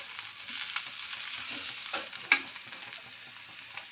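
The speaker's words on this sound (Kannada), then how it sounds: "ಚೆನ್ನಾಗಿ ಗ್ಯಾಸ್ ಸ್ಲೋ ಇಟ್ಟು ಮೆಲ್ಲಗೆ ಫ್ರೈ ಆಗಬೇಕಿದ್ರು" Chicken pieces for chicken sukka frying slowly in a pan over a low gas flame, a steady soft sizzle with a brief stir or clink partway through, close and moderately quiet with no talking.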